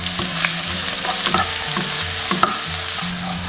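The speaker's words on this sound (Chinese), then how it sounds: "下入葱姜蒜、干辣椒，等香。" Scallion, ginger, garlic and dried chili stir-frying in hot oil, a steady close sizzle with scraping spatula strokes and occasional clinks throughout.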